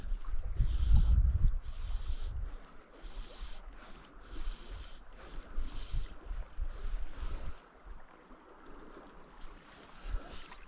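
Wind gusts across a microphone beside a stream, producing an uneven rumbling buffeting that surges strongly at first and then keeps rising and falling in irregular gusts.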